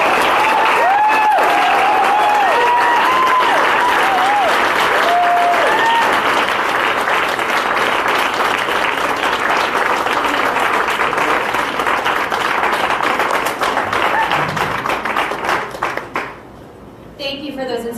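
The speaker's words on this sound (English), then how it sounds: "Can we give her another round of applause?" A crowd at Mass NOW's annual Feminist Affair gives Senator Linda Dorcena Forry sustained, loud applause for about sixteen seconds, with voices and cheers mixed in before it tapers off.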